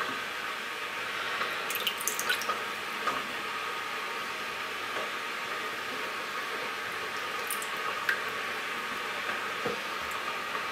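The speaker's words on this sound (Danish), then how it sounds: "så er jeg ved at koge noget vand" A pot of water heats toward a boil on a kitchen stove while fries wait nearby, giving a faint, steady hiss and rumble with a few soft clinks, and no talking.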